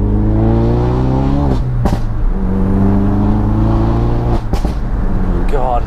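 A Ford car with a Scorpion valved exhaust driven hard gives a loud, close engine drone that climbs in pitch through the gears, with two sharp shift breaks and another rise near the end.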